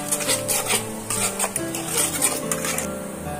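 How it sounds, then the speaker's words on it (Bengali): Whole cumin and black cumin seeds sizzle in hot oil in a pan while a utensil scrapes and stirs them in quick, close strokes, with a soft frying hiss running underneath throughout. "সমস্ত মশলাগুলো আমি 2 মিনিটের মতন ভাজা ভাজা করে নেব"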